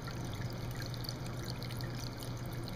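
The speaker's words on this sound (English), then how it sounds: "Cascading off a single rock. Falling down into another pool." Water from an indoor Japanese tabletop fountain cascades off a single rock into a pool below, a soft, steady trickle and splash that runs on without a break.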